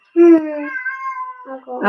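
A pet cat meowing indoors during a craft workshop: one long drawn-out meow, loud and close, with a person starting to speak at the end.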